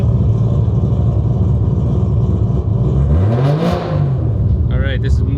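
A new 1000hp engine idles with a rough, loping rumble while fuel is adjusted, its pitch swelling and dropping once in a brief rev before settling, with a voice heard briefly over it.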